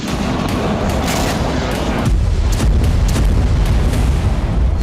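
Explosions from missiles and drones striking Sevastopol bay, a dense rumbling barrage of booms and cracks that swells louder midway and keeps rolling without pause.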